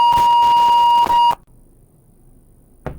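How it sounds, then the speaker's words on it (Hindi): Steady electronic tone on a dropped phone line during a TV news call, sounding loud for over a second, then cutting to near silence before a brief burst of noise. "हसन मुर्जा साहब ने फोन रख दिया या लाइन ड्रॉप हो गई"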